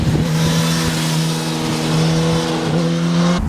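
Strong steady drone of a 2018 Suzuki GSX-S1000's K5-based 1000cc inline four-cylinder engine, loud and close with a smooth harmonic hum that rises slightly in pitch near the end.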